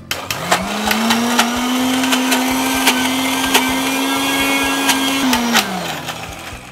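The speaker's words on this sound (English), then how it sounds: "We're going to whiz this bit a little bit more." A blender whizzes pesto sauce for spaghetti, its motor spinning up, holding a steady loud whir with small rattles and knocks from the jar, then winding down near the end.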